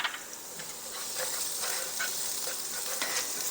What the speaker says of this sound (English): Then we'll add in our garlic. Go ahead, add in your garlic. Saute it for just about a minute.